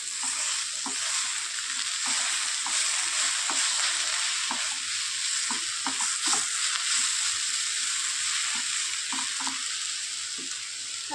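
Cooked kurdu leafy greens sizzle in a pan as a spatula stirs them, tapping lightly at an uneven pace above a steady frying hiss close by.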